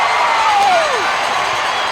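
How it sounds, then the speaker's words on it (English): A crowd at a Mississippi State versus Central Michigan college baseball regional game in Starkville roars and cheers steadily for the whole stretch, loud and sustained, with a whistle-like tone gliding downward early on. "And listen to this crowd."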